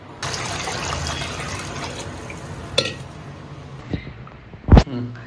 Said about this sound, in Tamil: இப்போ பருப்பு மூழ்கிற அளவுக்கு தண்ணி ஊற்றி ஊற வச்சாச்சு